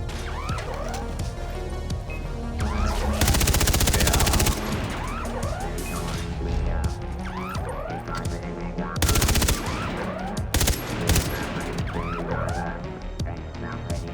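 Automatic weapons fire rattles in rapid bursts during Far Cry 3 Blood Dragon gameplay, with two loud heavy volleys and scattered shots amid game music and effects, plus occasional talk.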